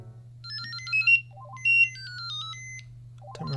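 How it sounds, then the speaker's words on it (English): An electronic ringtone from a Mitsubishi Galaxy Trium mobile phone plays a bright, beeping melody of quick tones over a low steady hum, close and fairly loud. "let's have a look at the old ringtones"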